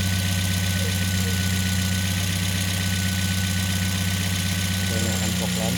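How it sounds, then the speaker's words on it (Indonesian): A motorcycle engine idles heavily, loaded down by its lights, giving a steady, close, low rumbling hum that runs unbroken throughout, with a brief voice surfacing near the end. "Nah, mesinnya terasa berat sekali."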